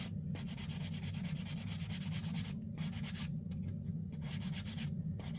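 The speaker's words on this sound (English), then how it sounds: "Just give it a good sanding to kind of blend that out a little flatter, or sand it a little flatter" A sanding block rubs a small craft piece flat, a Dollar Tree conversation heart being altered for assemblage art, in steady close back-and-forth scrapes with a few brief pauses and no talk.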